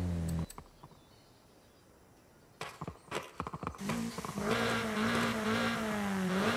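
A JDM car engine in Forza Horizon 5, set up naturally aspirated, first silent after a short tone, then a few clicks before a steady engine drone rises and holds to the end.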